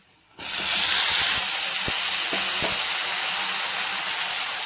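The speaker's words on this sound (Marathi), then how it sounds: "तुम्ही पाहू शकता टोमॅटो किती छान प्रकारे तळून झालेला आहे" Chopped tomatoes fry with onions in a hot pan. The sizzle bursts in loudly and then holds as a dense, steady hiss, with a few faint knocks of a utensil underneath.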